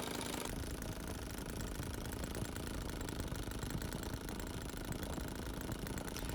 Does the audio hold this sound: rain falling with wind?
no